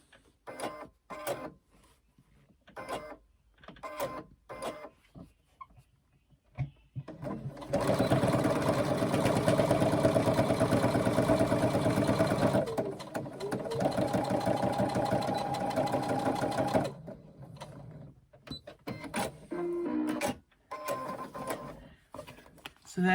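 A sewing machine runs a continuous stitching burst of several seconds along a 3/8 inch handbag seam, then stops and restarts briefly, close by. A voice speaks before and after the stitching.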